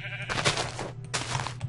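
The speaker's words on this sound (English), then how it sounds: "You crazy sheep. Get out of there." Sheep in a modded video game give two loud, close bleats, one after the other with a brief pause between them.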